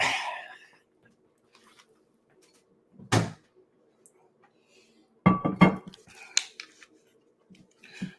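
Someone fetches a glass and pours whiskey at home: a cupboard thud and a sharp clink, then a cluster of glass clinks and knocks, separated by quiet gaps.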